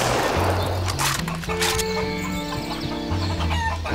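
Chickens cluck and squawk in the Doom mod VietDoom, a busy burst of fowl calls mixed with game music and sound effects, loud and close throughout.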